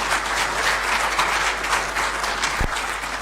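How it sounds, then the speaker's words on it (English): An audience at a presidential reception at Jubilee House gives sustained applause, many hands clapping in a dense, steady roar with a low rumble beneath. "A round of applause is well deserving"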